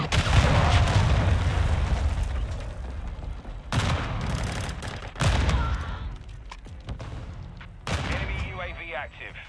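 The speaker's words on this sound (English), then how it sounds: "Hostile cruise missile incoming." Cruise missile strike in Call of Duty: Modern Warfare 2 (2022): heavy booming blasts and rattling gunfire come in several waves, loud and dense, with game voices over parts of the barrage.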